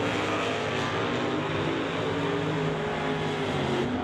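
A 1996 Camaro drag racing an automatic GTI at the strip gives a loud, sustained engine drone that holds steady with a slight rise, close and unbroken, and nobody speaks.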